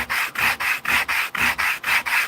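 Knife scales rubbed by hand over sandpaper laid on a flat surface to flatten their bottoms, eight steady back-and-forth rasping strokes in an even rhythm, close and clear with brief pauses between passes.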